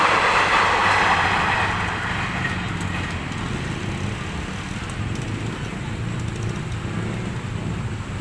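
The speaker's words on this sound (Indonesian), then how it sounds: "kita lihat nih kereta api udah meluncur dengan sangat cepat" A Jakarta Kota–Bekasi commuter train rushes past near a railway level crossing, loud and close at first, then settling into a continuous rumble of wheels on rails as it moves away.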